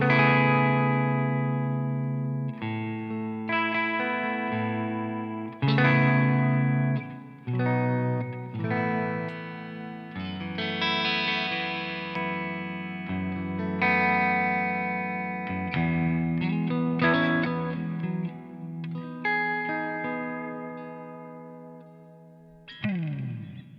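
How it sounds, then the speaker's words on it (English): Ibanez Q Series electric guitar on the neck and middle pickups, played through effects with a warm, full tone, chords and single notes ringing with chorus and reverb, loud and alone. "that activates the neck and the middle there, giving you almost kind of like a neck humbucker sort of sound"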